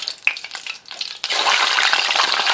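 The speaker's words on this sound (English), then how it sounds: "I want to put a couple of fries in there now because it's hot" Potato french fries dropped into hot oil, a soft bubbling at first, then a sudden loud, steady sizzle that continues to the end, close and alone.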